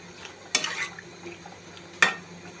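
Potatoes with spices for a rohu fish curry are stirred in a pan, with two distinct spatula scrapes against the metal separated by a quiet pause.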